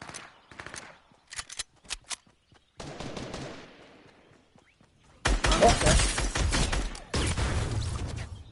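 Gunfire in Fortnite, scattered single shots and short bursts early, then a long, loud, dense volley of rapid automatic fire close up, with no talk.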